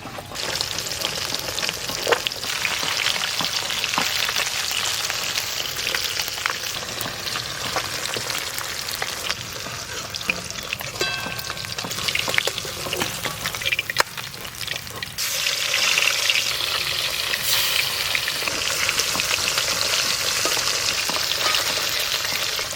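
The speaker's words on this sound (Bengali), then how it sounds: "তো ভাজছি এত সুন্দর মাছ ভাজার গন্ধ বেরিয়েছে" Small sarpunti fish frying in oil in a pan, a loud continuous crackling sizzle close up with occasional stirring and spatter bursts, no one speaking.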